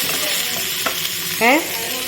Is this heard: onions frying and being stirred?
yes